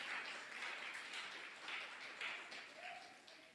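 A church congregation claps in praise during a worship service, a steady broadband patter of many hands sustained throughout with voices mixed in.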